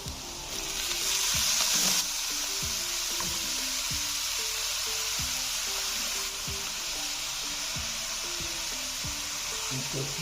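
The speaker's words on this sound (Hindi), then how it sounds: "आलू हमारे अच्छी तरह भुन गए हैं। अब इसके अंदर हम पालक डाल देंगे।" Potatoes sizzle and fry steadily in a pan as spinach is about to be added, a loud continuous crackle with light stirring clicks throughout, no talking.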